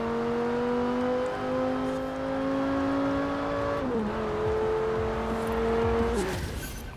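A 2009 Audi RS 6 in Forza Horizon 4 cruises with a smooth, fairly quiet engine drone, its steady pitch holding and then stepping down twice as gears change.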